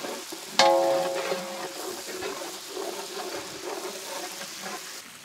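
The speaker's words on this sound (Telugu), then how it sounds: "అల్లం వెల్లుల్లి పేస్ట్ ఏదైతే పచ్చివాసన ఉందో అది చక్కగా పోయేంత వరకు నూనెలో వేపుదాం" Ginger garlic paste fries in hot oil with onions for Hyderabadi mutton tahari, giving a steady close sizzle that follows a sharp clatter near the start, with no talking.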